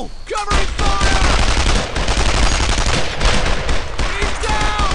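Dense gunfire in the Brothers in Arms: Earned in Blood game rattles continuously in loud rapid volleys, close and relentless, with brief shouted voices cutting through the barrage.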